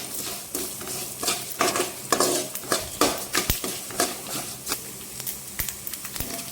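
Cumin, mustard and fenugreek seeds frying in a pan crackle and sizzle under stirring, with repeated scraping strokes of a spoon against the metal and small popping ticks, close and moderately quiet.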